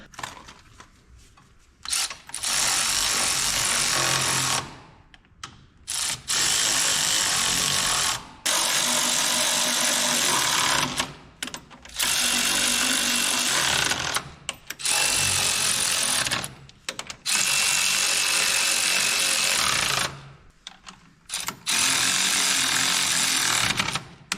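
An impact power tool runs bolts tight on the new track rollers of a John Deere 550G dozer's undercarriage, loud rattling hammering bursts of a few seconds each, repeated about eight times with short pauses between.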